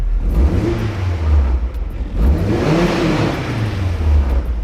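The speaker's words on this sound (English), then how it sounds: "So as I blip the throttle, take a look at the revs" Car engine revving in quick throttle blips, revs lagging as they rise and drop twice, close and fairly loud with no talking.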